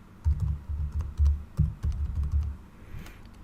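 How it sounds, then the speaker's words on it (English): Someone types on a computer keyboard, entering a password into a Magento 2 admin form in quick, irregular bursts of close, soft key taps with brief pauses between them. "Here I'm gonna type password"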